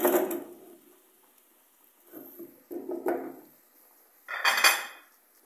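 A spoon scrapes and clanks in a pot of tin fish with onion and green pepper, in a few separate bursts of metallic knocks and scrapes with quiet gaps between them.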